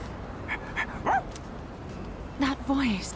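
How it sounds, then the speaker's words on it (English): A dog barks in Persona 3 Reload, a few short yips followed by two louder barks near the end, heard faintly over quiet game background. "I've never heard someone describe a dog bark as a voice."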